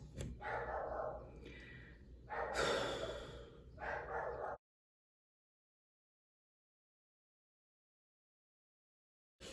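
A dog barks in a few loud, close bursts over about four seconds, then the sound cuts out into silence.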